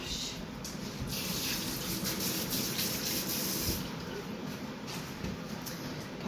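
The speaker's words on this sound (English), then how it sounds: "just give my hands a wash." Tap water runs steadily from a kitchen faucet over hands being washed at the sink, a continuous close rushing splash with no pauses.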